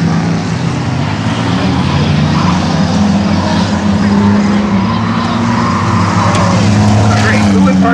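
Race cars roar down the back stretch at Birch Run Speedway during a flag pole race, a loud continuous engine drone close by with shifting pitch, and voices faintly beneath.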